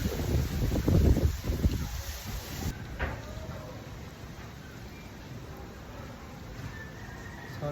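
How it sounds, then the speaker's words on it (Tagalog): Gusty wind buffets the microphone outdoors during outdoor cooking of mango sticky rice, loud rumbling bursts in the first three seconds that settle into a steady, softer rush. "So, mahangin dito sa labas,"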